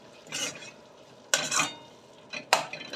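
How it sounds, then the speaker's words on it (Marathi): Tomatoes are sautéed in oil in a pan for Varhadi paneer over a medium flame, heard as three separate bursts of stirring and sizzling with quiet pauses between them. "हे टोमॅटो छान याच्यामध्ये पूर्ण मिक्स होईपर्यंत याला तेल सुटेपर्यंत परतून घ्यायचे आहेत"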